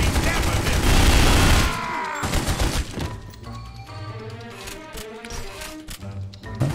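A rapid volley of gunfire in The Godfather Don's Edition video game, loud and dense for the first two seconds before giving way to scattered distant shots and game noise, with someone talking in the background.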